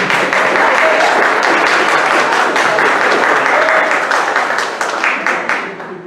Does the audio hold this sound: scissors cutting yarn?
no